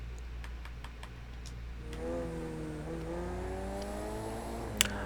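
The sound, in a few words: race car engines in Project CARS 2 video game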